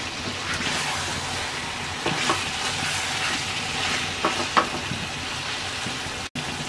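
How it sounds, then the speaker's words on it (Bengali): Boiled meat frying in a karahi for Bangladeshi kala bhuna, a steady close sizzle and hiss with a few brief spitting pops, continuous throughout with no talk. "এবার আমরা আরেকটা কড়াইতে মাংসটাকে ভেজে নেব।"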